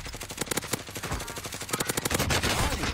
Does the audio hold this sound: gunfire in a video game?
yes